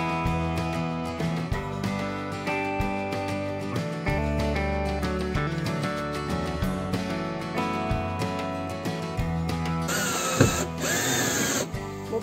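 Power drill driving basic steel screws while building a storage compartment from recycled materials: a loud, close motor whine that runs, stops and restarts several times, with a shriller burst near the end.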